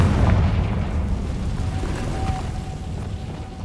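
A Confringo fire spell from the video game Hogwarts Legacy bursts in a loud, dense explosive boom that rumbles low and slowly fades over a few seconds, with no speech.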